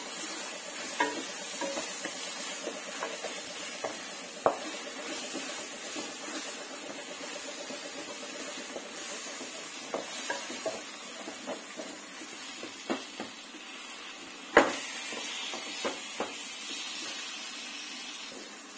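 Pumpkin curry with jaggery cooks in a pan with a continuous soft sizzle, while a utensil scrapes and knocks against the pan in scattered taps and one louder clank.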